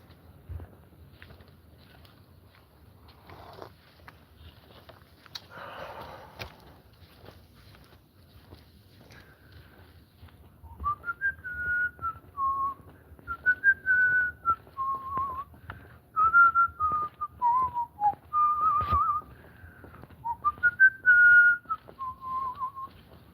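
Someone whistles a wandering melody nearby in short phrases, after a stretch of quiet rustling and faint background movement.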